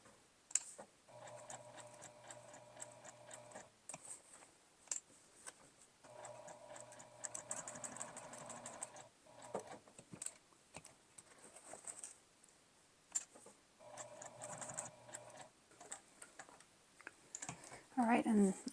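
Sewing machine stitching the sides of a felt tote bag at a 3mm stitch length, running in three soft, even whirring bursts separated by pauses, with faint handling clicks between.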